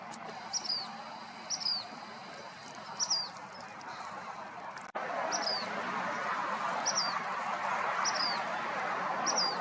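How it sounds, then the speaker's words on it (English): Gadwall ducks in a Southern California marsh giving short repeated calls in small bursts over a steady wash of background noise, moderately distant. "Yep, those are gadwalls."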